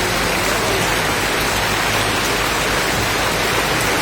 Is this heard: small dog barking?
no